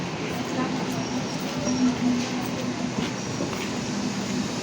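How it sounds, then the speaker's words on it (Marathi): A steady rumbling rattle of a moving train, continuous and fairly close, with a voice speaking over it now and then. "ट्रेन गाड़ी चल रही है।"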